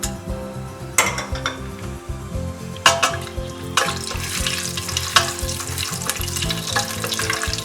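Whole spices and masala frying in hot ghee and oil for mutton biryani, a loud, close crackling sizzle with sharp bursts and metal utensil clinks against the pan.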